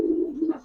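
A Giribaz pigeon in a loft gives a short, low, steady coo close by that fades out within a second.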